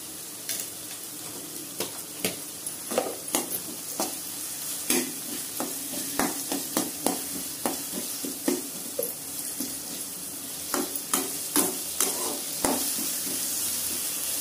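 Ginger garlic paste and onion are sautéed in a pan for rava idli, with a spoon scraping and stirring in a steady rhythm over a soft, continuous sizzle.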